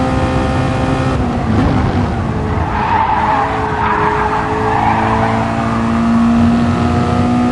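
A MaX5 series race car screams at maximum revs near the start, its high-pitched engine whine held loud and sustained over rasping tyre noise, with no talk.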